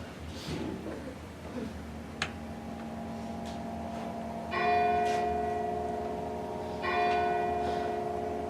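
A church-style bell tolls twice on a theatre stage during a production of Macbeth, each stroke ringing out and decaying slowly over a quiet room hum.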